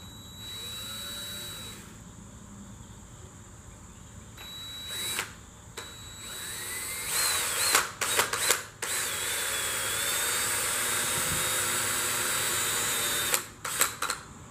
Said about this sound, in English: we're going to drill a little hole down in here